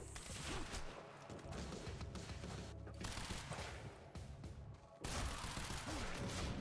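A hovering drone's gun in the game Quantum Break fires a dense, continuous volley amid heavy noise. The sound is faint overall, with a renewed burst toward the end.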